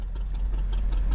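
Fishing boat engine in the game Flippy Ships at Sea, a low, steady idling rumble with faint ticking on top, heard close and continuous.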